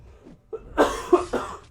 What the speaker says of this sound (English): That was very random that I had to cough.